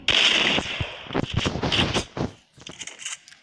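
Gunfire in an online multiplayer shooter where a shotgun is being used, with several loud close shots and bursts in quick succession, tapering into quieter scattered reports.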